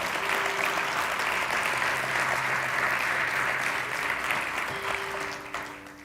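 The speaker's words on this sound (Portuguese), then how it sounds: "uma salva de palmas." A church congregation claps together in a sustained, loud round of applause during a family celebration service, steady throughout before easing off at the end, with faint sustained tones beneath.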